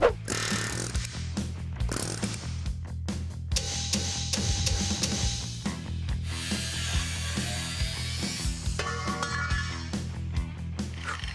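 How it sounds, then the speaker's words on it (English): A rivet is punched out of a cross member on a truck frame, giving a rhythmic series of loud metallic blows and scraping close by, with no talking. "we can punch the rivet out, which is what I'm gonna be doing"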